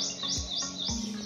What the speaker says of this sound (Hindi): और चिड़िया की आवाज़ ही